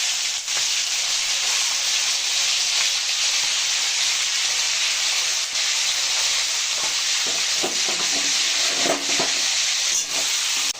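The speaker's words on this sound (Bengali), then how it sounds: "এবার ওই তেলের মধ্যে আমি এখানে চিংড়ি মাছ হালকা করে ভেজে নেব।" Shrimp fry lightly in hot oil for a Bengali cauliflower and shrimp dish, giving a steady, close sizzle with occasional small pops and clinks throughout, without any talking.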